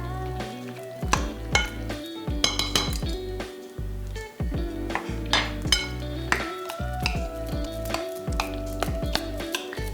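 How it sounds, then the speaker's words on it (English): Eggs are mixed in a bowl with a utensil for a breakfast casserole, producing close, irregular clinks and scrapes against the bowl with short pauses between bursts of stirring. "Let's mix all the eggs up so they're completely mixed up."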